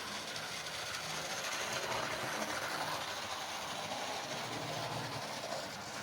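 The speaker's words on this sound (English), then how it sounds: "You can see now it's running quite well around the track." A model Great Western locomotive, Lydham Manor with a split chassis, runs steadily around a track pulling three coaches, giving a continuous close hiss and rumble of wheels and motor with no talk.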